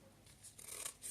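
Scissors snip through a paper skirt pattern in a few soft, quick cuts, close and quiet with no talking.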